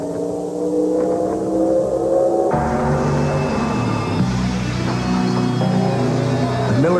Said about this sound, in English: Miller Genuine Draft Rusty Wallace Stock Car.